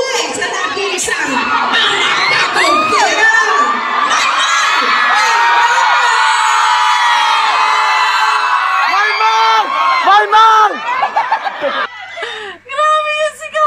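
A fan screams loudly and at length at a Maymay Entrata event, piercing shrieks over a cheering, laughing crowd with other voices shouting.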